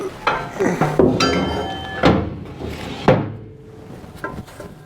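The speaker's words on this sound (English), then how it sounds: "the old bearings are definitely a little dry. Oh, yeah, that one sounds bad." An old, dry bearing from a combine harvester's removed arm is turned by hand, giving rough scraping, grinding and metallic clunks in uneven bursts, close up in a workshop.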